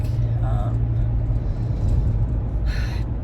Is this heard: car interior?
yes